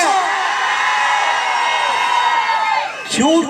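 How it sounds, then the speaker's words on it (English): A crowd at a group outing shouts and cheers together in one loud, sustained roar, with a sharper burst of yelling near the end. "Why are you shouting, yaar?"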